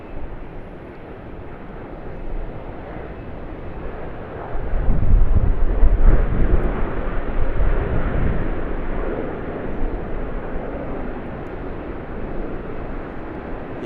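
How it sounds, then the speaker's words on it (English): A Qantas Boeing 737 at Sydney Airport gives a broad, rumbling engine roar that swells from about four seconds, peaks near six and stays steady to the end, with wind buffeting the microphone. "here's a Qantas 73"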